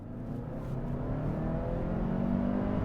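A 2021 compact pickup with a turbocharged four-cylinder engine accelerates hard, a steady low engine drone rising gradually in pitch and loudness over a few seconds, heard close from inside the vehicle.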